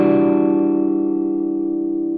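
A minor 9 chord is finger-tapped on electric guitar in math rock fashion, with one clear struck attack followed by a long, shimmering sustain that fades gently, heard alone.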